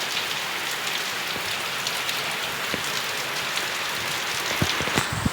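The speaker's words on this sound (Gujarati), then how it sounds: "તો તમે ત્યાં જોઈ શકો છો ફૂલ વરસાદ થયો છે" A heavy monsoon downpour hammers down as a loud, constant close-up hiss, with a few sharper drop impacts near the end and no speech.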